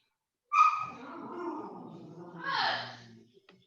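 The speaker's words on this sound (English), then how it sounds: "That's a dog, ain't it?" A single dog gives a close, drawn-out bark that slides into a whining, yelping howl, rising again toward the end, with faint clicks afterward.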